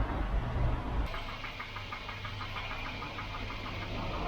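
A Volvo 240 that will not start and is not charging gives a steady, repetitive clicking and clacking under a low engine-bay hum, close and moderately loud.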